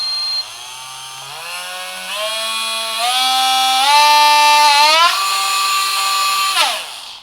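A Parkside 12V cordless rotary tool, model PFBS 12 C7, runs alone with a high whine that climbs in pitch in steps as its speed is raised, then winds down at the end.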